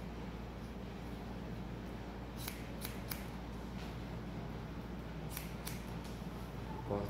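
Scissors snip hair during a men's disconnected haircut with a razored effect, a few quick crisp cuts clustered in pairs over a steady low background hum, close and fairly quiet.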